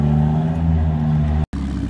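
A Ferrari Roma sitting at idle at a car gathering, giving a steady, deep, loud engine rumble up close that drops out for a moment before returning.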